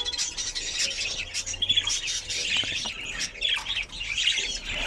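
Budgerigar chicks and adults chirp and squawk inside a nest box, a dense, busy chatter of high tweets close at hand that carries on without pause, with no talking.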